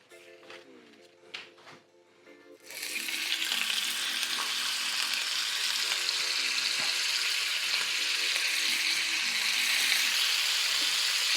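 Bacon sizzles loudly and steadily in a frying pan, a dense continuous crackle that starts abruptly after a few quiet seconds with a faint tone pattern beneath.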